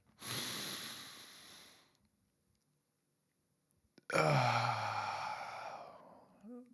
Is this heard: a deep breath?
yes